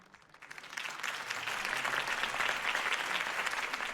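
Crowd applause from a political campaign rally audience in Batman: The Telltale Series, rising quickly after a brief quiet start and then holding as steady, dense clapping without talk.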